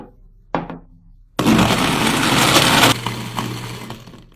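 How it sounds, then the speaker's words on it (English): A blender runs on ice and cappuccino smoothie ingredients, starting with a short clatter and then a loud grinding whir for a second or two before easing to a softer churning hum. "Now I close the blender tightly and blend until all ingredients are fully combined."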